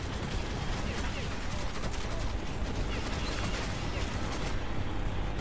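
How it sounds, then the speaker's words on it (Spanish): Dense heavy gunfire and machine-gun bursts rattle in a dense, continuous barrage throughout a firefight in the video game Metro 2033, with a voice talking over the shooting. "estamos aquí bajo un fuego infernal"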